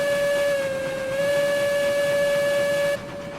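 A steam locomotive whistle in the railroad game RailRoads Online blows one long, steady, loud tone for about three seconds, then cuts off, leaving a softer hiss of steam.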